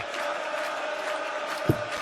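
A darts crowd at the 2017 European Darts Championship quarter final cheers Peter Wright, a steady rumbling roar of many voices with a sharp thud near the end.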